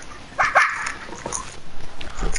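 A dog in a PS4 video game barks twice in quick succession, then gives a few softer yips and whimpers over a faint background of game ambience.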